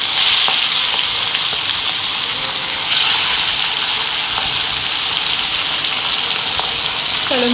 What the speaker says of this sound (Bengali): চলো মাছটা ভাজা করুক